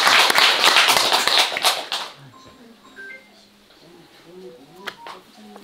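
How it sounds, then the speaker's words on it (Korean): An audience at a gathering claps quickly and briskly for about two seconds, then the clapping stops abruptly and gives way to quiet room sound with faint scattered voices and small noises. "박수 한번 쳐줘야지."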